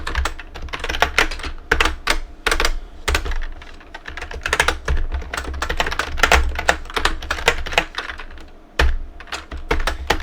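Fast typing on a computer keyboard, close and steady, with bursts of key clicks and brief pauses, no voices.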